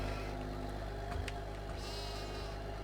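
Sheep in Farming Simulator 22 bleat faintly once or twice over a steady low machine hum, with no talking.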